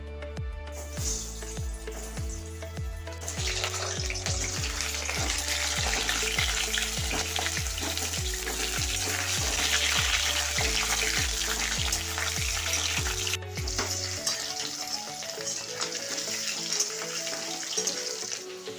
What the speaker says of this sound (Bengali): তেলটা মশলাটা ভাজা হয়ে গেছে, আমি সেদ্ধ করা আলুগুলো দিয়ে দিচ্ছি।